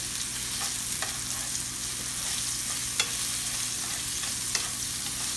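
Mushrooms stir-fry in a pan for vegetarian noodles, giving a steady, close sizzle with a few soft scrapes and clicks of stirring now and then.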